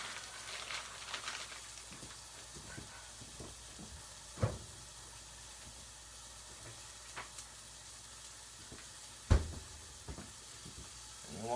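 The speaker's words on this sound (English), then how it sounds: "get that burger patty cooked up" A burger patty frying in a pan for a spicy breakfast cheeseburger, a steady soft sizzle with a couple of sharp pops and clatters, close but fairly quiet throughout.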